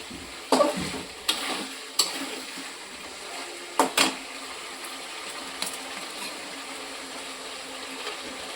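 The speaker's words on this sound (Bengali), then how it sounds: "ওই জন্য এখন দুধটা দিয়ে আবার কষাবো" Meat for meat pulao stirred and sautéed in oil in a pan, a few sharp scraping spoon strokes over a soft steady sizzle, the stirring bursts spaced irregularly and close by with no talk.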